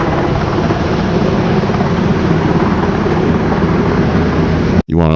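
Loud, steady roar of a helicopter close by, its rotor wash blasting over a supply site, a dense engine and rotor roar that holds constant before cutting off abruptly near the end.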